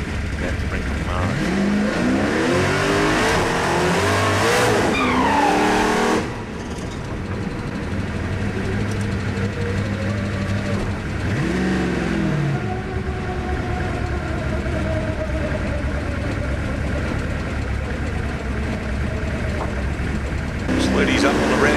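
A Camaro drag car at a Friday night drag strip revs hard on the start line, then launches and roars away with rising engine pitch, the sound fading as it recedes and another car follows later.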